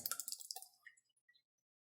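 Liquid drains from a can into a bowl while making pizza dough. It starts as a quick bright trickle of drips and splashes, then thins to a few scattered faint drops and falls quiet.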